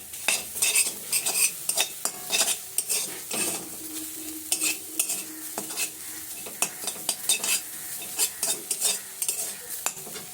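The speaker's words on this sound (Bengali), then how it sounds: "সজনে শাকটাকে কাঠখোলায় ভেজে নিতে হবে, এতে করে তেল ছাড়াই ভাজতে হবে।" Drumstick leaves dry-roasted without oil in a pan, with close, repeated scraping and stirring strokes in a steady rhythm and a faint crackle underneath, no voices.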